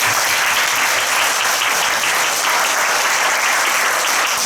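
Sustained applause from a congregation at a Wednesday young-adult church worship service, steady and dense throughout, loud and filling the room.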